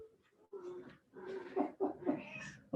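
A cat gives a run of drawn-out meows and cries, fairly close and clear, in a quiet room during an adaptive movement class.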